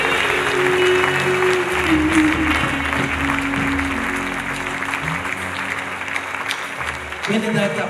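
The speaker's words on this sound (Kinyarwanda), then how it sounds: "Reka dukomere Imana amashyi noneho neza, tuyakomere dufatanyije n'ijuru." A church congregation claps loudly and continuously during a sermon, a dense wash of applause with a voice faintly audible underneath, tapering slightly toward the end.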